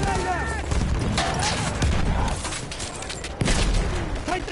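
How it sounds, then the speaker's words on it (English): Grenade blast and battlefield gunfire in Battlefield 1 on PS4, a loud, constant wash of explosions and shots with sharp impacts throughout and a voice heard over the din. "Heads up, grenade."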